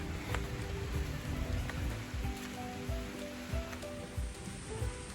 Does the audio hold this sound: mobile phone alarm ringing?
no